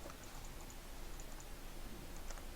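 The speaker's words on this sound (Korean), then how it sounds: "줄 바꿈하고자 하는 위치에 커서 위치시키고 Shift 키 누르고 엔터 키" Computer keyboard keys tapped softly and sparsely, including Shift and Enter presses while entering line breaks in a PowerPoint document, faint clicks over a steady low background hiss.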